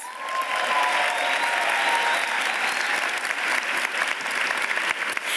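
Sustained applause from a commencement audience at Middlesex Community College for health program graduates, a dense, steady roar of many hands clapping that holds loud and even throughout.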